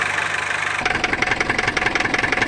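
A Renault Clio 1.9 diesel engine runs steadily in a workshop after repair, its loud, even idle clatter close by with a rhythmic knocking pulse that starts abruptly after a quieter, hissing lead-in.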